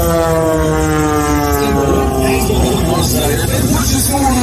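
Aerobatic airplane at a 2022 airshow in Columbus, Mississippi, its engine droning loud and steady with a strongly harmonic propeller tone during a tumble maneuver, pitch shifting as it rolls across the sky.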